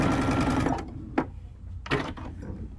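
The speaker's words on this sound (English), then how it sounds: "And now I'm just going to sew that closed with my sewing machine." A sewing machine stitches a fabric corner closed at a quarter-inch seam, first in a fast steady whirring run, then stopping, with short bursts of stitching and small clicks following.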